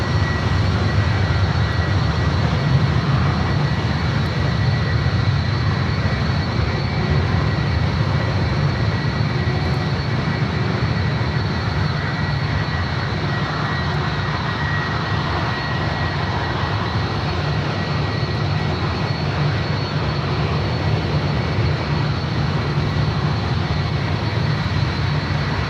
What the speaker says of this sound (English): Virgin or Speedbird? Must be Speedbird. He's already rolling down.